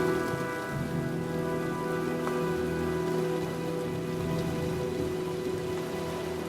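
Continuous rainfall in the video game Heavy Rain patters on surfaces beneath a steady humming musical drone, even and moderately quiet throughout, with no talking.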